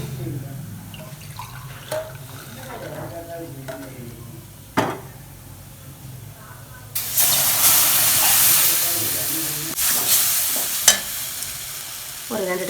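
Milk poured into a hot pan of flour for white sauce pasta, then stirred: a soft pour gives way to a loud, steady hiss and sizzle from about seven seconds, with stirring scrapes and occasional clinks.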